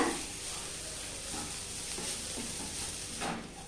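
Masala spices are sautéed in a pan, giving a continuous close sizzle with soft scraping stirs running through it and no voices.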